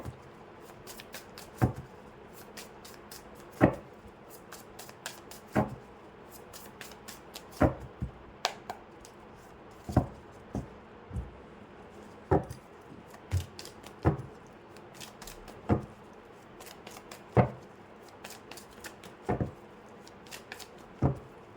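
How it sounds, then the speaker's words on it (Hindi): Tarot cards are shuffled by hand in quiet, close riffles and taps that recur every second or two at an even pace, with faint handling sounds in between. "तब तक मैं थोड़े कार्ड शफल कर लूँ"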